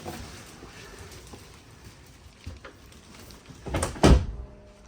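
A Murphy bed with lift assists is pulled down inside a 2025 Forest River Flagstaff MicroLite 22SQS camper, ending in a couple of close, loud wooden thumps and clunks after quiet rustling.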